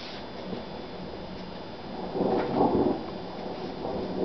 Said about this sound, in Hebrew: אנחנו שומעים את הגשם שכבר איחר לנו. רעמים, רעמים